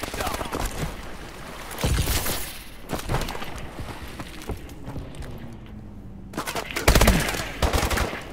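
Rapid bursts of gunfire from the shooter game Call of Duty: Advanced Warfare, with a heavy volley near the start and another toward the end over a busy, noisy game backdrop.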